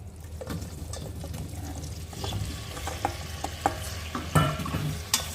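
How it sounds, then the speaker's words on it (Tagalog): Chopped potatoes, carrots, onion and tomato fry together for soup, a steady close sizzle broken by scraping and clattering stirs that grow more frequent toward the end. "Fry lang natin mga karosas."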